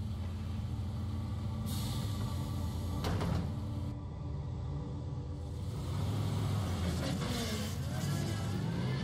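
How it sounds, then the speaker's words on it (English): Bus engine pulling over in the video game Everlasting Summer, a low continuous rumbling drone with hissing and clunking sounds like air brakes and doors, moderately loud and steady. "The sound of an engine brought me back to reality. A bus pulled over."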